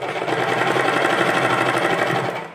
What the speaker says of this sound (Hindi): इस सिलाई को डबल कर देंगे।